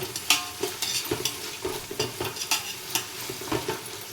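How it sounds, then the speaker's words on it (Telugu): Ginger garlic paste fries in a pan for egg biryani while a spoon stirs it, producing a regular rhythm of close scraping strokes over a continuous sizzle. "దీన్ని ఒకసారి ఫ్రై చేద్దాం"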